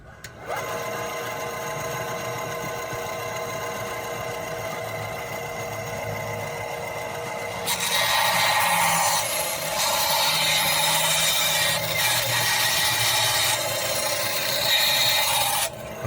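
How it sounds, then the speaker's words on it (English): A saw cuts 100-year-old walnut at a 45-degree angle into veneer strips for repairing crossbanding on an antique English walnut piece; a steady, close machine buzz runs throughout, growing louder and rougher partway through as the blade bites deeper. "we're going to cut this walnut, which is a 100-year-old walnut, on a 45-degree angle to make our veneer"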